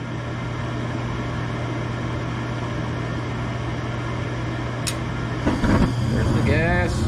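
A furnace gas burner lights after the igniter, shifting a steady mechanical hum into a louder broadband whoosh near the end, where a voice also comes in.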